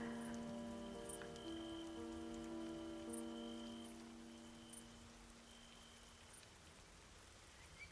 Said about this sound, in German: Das ist jetzt wichtig, es regnet.